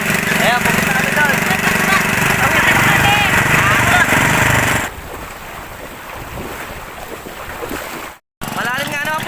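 A motorboat engine drones loudly on a fast-flowing river in Bulakan, with wind buffeting the microphone; the engine roar drops sharply partway through, leaving quieter water and wind noise after a brief cutout.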